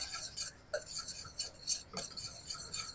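A spoon scrapes and swirls through hot cheese sauce as Gruyère is stirred in to melt for lobster mac and cheese, giving soft, quick, uneven scraping strokes close by.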